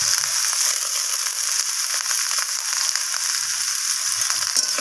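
Chopped eggplant and onion stalks fry in a hot pan, giving a loud, steady, unbroken sizzle that stays close and constant throughout, with faint stirring scrapes underneath.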